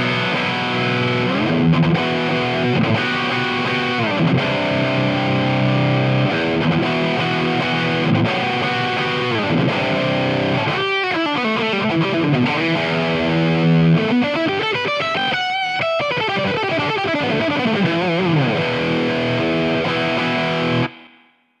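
A heavily distorted electric guitar is played through a 1x10 combo amp driving a Marshall 4x12 cabinet, sustaining continuous chords and riffs with bends and slides before cutting off.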